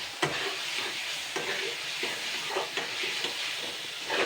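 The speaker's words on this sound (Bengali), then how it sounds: "মশলাটা সুন্দর ভাজাও হয়ে গেছে।" Spice paste for a duck egg bati bhapa sizzles and fries in a pan while being stirred, a steady close hiss broken by regular scraping strokes of the spoon.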